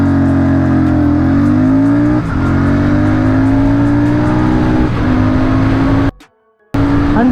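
A Royal Enfield Super Meteor 650 motorcycle launching from 0 to 100 km/h, its engine revving loud and close, each gear climbing in pitch before a brief drop at the shifts, then cutting out briefly before resuming.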